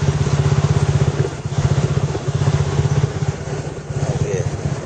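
Motorcycle engine chugging near the rider with a rapid pulsing beat, running loud and steady with slight fluctuations as it rides along, with no one speaking over it.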